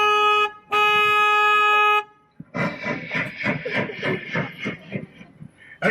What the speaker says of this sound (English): please excuse me while I honk my horn.